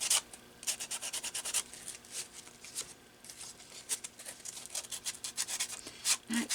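Something rubs and scrapes across the light side of an index card in quick repeated strokes, a dry close scratching that comes in bursts with brief pauses between.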